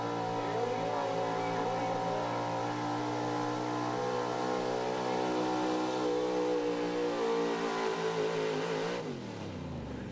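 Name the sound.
pulling truck engine revving at a truck pull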